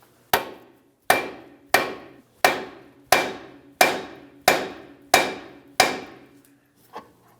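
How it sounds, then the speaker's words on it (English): Hammer blows on a steering knuckle of a 2006-2012 Ford Fusion to free the tie rod end: nine sharp, evenly spaced metallic strikes about a second apart, close and loud, then one lighter tap. "when I tap on this knuckle, the tie rod will come down"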